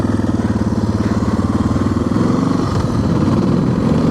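Wind rushes and buffets loudly past an open-face motorcycle helmet with no visor while riding, mixed with a pulsing engine drone, continuous and close throughout, with no talking.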